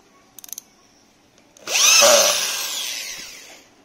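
A Cheston 13mm rotary impact drill drives a screw, a loud close whirring burst that rises quickly and holds steady for a couple of seconds, preceded by a few small clicks.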